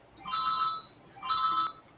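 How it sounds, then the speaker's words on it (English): A phone rings somewhere in the room in two electronic ringtone bursts with a pause between them, moderately quiet and a little distant, with no talk over it. "So I'm hearing a phone ring somewhere."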